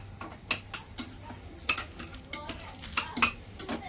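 Chola beans tipped into a hot pan with garam masala, giving a run of close, sharp clatters and scraping stirs over a low steady sizzle, several distinct knocks spaced irregularly.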